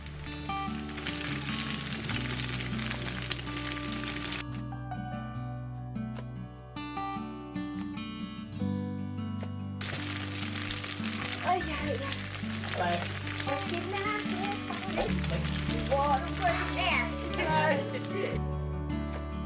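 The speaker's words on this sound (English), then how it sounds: "Then you add the tofu into a pan with some hot oil and fry that until it's golden and crispy." Tofu frying in hot oil in a pan until golden and crispy gives a steady, moderate sizzle under a voice and soft background music.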